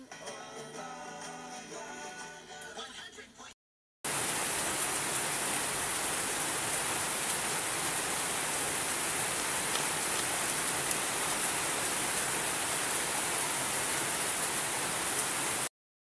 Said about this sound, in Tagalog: Halos ilang araw na umuulan mga farmers.